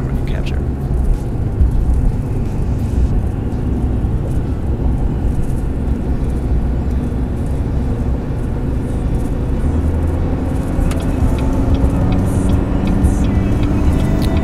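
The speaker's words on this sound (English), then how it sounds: "take a listen here at me accelerating, just to let you guys enjoy the sounds that this camera can capture" Car accelerating, captured by a Vantrue X3 dash cam inside the cabin, a steady loud low engine and road rumble throughout with a faint voice underneath.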